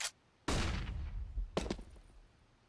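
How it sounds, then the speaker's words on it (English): A flashbang grenade going off in Counter-Strike, two sharp loud bursts in quick succession, each trailing off into a ringing decay. "Can you flash? Yeah, flashing. Throwing flashbang."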